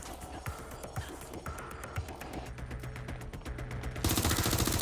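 Gunfire in Watch Dogs: Legion: a rapid string of sharp, close shots, some in quick automatic bursts, ending in a louder wash of noise.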